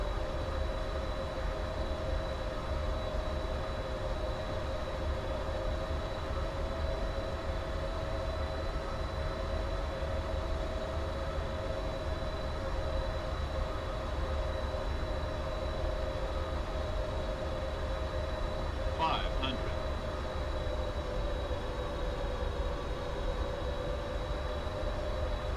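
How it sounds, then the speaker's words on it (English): A train rumbles steadily past in Microsoft Flight Simulator, a constant low mechanical drone with faint tonal hum, heard from a cockpit at an even level throughout with no voices. "There's the train."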